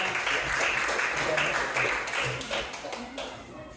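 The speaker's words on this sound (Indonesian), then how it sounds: "Tepuk tangan dong yang mulia" A classroom of students claps for a discussion group, a short burst of dense, steady applause in a room, loud and close throughout.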